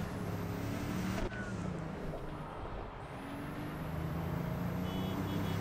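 A car drives in Cyberpunk 2077, its steady engine hum and road noise continuing loud and unbroken throughout, with a brief clunk partway through and no talk.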